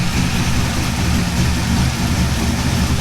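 A C5 Corvette engine idles steadily up close, a continuous low rumble with an even, slightly lumpy throb from a large cam, and no other sounds.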